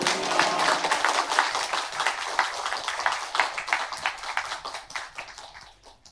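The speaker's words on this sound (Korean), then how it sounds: "나오실 때 우리 크게 환영의 박수를 함께 합시다." A church congregation claps in welcome as a pastor comes forward, with many hands in rapid, roughly rhythmic claps that are loud at first and gradually thin out and fade toward the end.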